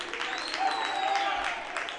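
Crowd applause at a college baseball game, a steady broadband wash of clapping and cheering at moderate distance, with a faint whistle or horn tone running through it.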